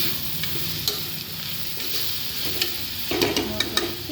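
Drumsticks cooking in a coconut curry are stirred in a pan. A steady sizzle runs underneath while a spoon scrapes and knocks against the pan in a cluster of clattering strokes near the end.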